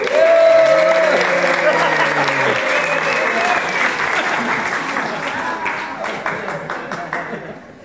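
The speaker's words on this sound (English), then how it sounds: "Everybody clap when they walk in." Applause and cheering swell from a crowd at a business meeting as people walk in, loud and sustained, while a voice calls out over the clapping early on before it slowly thins.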